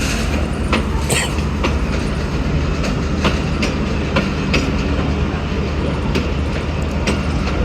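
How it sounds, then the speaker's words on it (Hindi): A Pakistan Railways Rehman Baba Express, with old coaches on the Peshawar Cantt to Attock City run, rolls along the tracks with a steady rumble and periodic clickety-clack wheel beats, heard from on board. "सबसे पुरानी ट्रेन पाकिस्तान रेलवे की"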